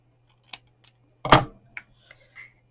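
Scissors hand-trimming a small piece of material for a Tic Tac gift, a few sharp isolated snips with one louder cut in the middle, close and quiet between strokes.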